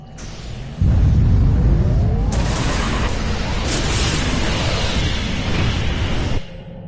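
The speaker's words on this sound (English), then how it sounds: "Overload those conduits, I'm sure it'll make a big explosion." Overloaded conduits blow up in a video game: a sudden loud explosion bursts in after a quiet moment, then a long rumbling roar with whooshing debris holds for several seconds before cutting back down.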